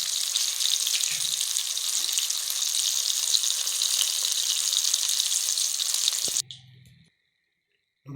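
Rava-coated fish, Mangalore style, sizzles loudly and steadily in hot oil for about six seconds, then the frying abruptly cuts off, leaving a brief faint clatter before silence.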